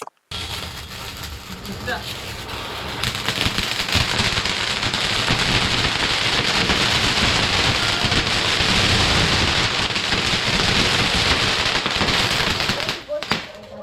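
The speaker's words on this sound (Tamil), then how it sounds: "ஸோ இப்போ வந்து நம்ம பாத்தீங்கன்னா டான்சிங் பிக்கர் தான் வெடிக்க போறோம்" Dancing firecrackers from Sivakasi burst continuously outdoors for about ten seconds, a dense crackling, popping and fizzing that stays loud and steady before cutting off near the end.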